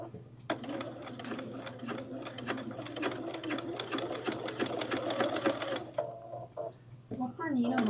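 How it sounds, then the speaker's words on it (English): Bernina B570 sewing machine stitching through many layers of bag strapping, a steady rapid run of needle strokes with brief pauses and restarts near the end, close and clear with light talk in places. "What Bernina model are you using? This is the B570."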